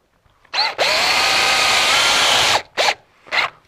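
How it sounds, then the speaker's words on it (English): A power drill drives a screw into a Snirt Stopper bottom seal: one loud, sustained whir of about two seconds, then two short trigger bursts close to the listener. "then what I'm going to do is put my first screw in at 6 inches from the end"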